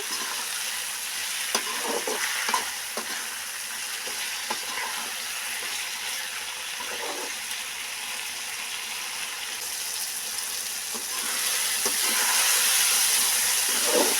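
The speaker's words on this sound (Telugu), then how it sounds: "టమాటాలు అప్పుడప్పుడు కలుపుకోవాలండి" Tomatoes for tomato chutney fry in a pan, giving a steady sizzle with occasional scraping clicks as they are stirred now and then, growing slightly louder toward the end; no voices.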